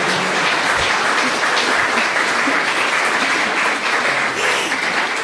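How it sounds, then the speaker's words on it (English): An audience at a literary event honouring author David Malouf's approaching 80th birthday breaks into sustained, dense applause, loud and steady throughout with no talking. "audience gasps and claps"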